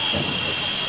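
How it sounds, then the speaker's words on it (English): A jet dragster's engine roars at a drag race, a dense, steady, loud blast of turbine noise filling the whole moment with no break. "Casey Jones and Neil Hansen, second pass of the Jet Dragsters here tonight."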